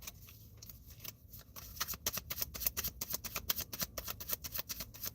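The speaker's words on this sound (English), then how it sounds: "I think the cards want me to shuffle them again because they are not wanting to talk" Tarot cards being shuffled in quick riffling bursts, crisp and close, growing into a rapid flurry of flicks with no voice over it.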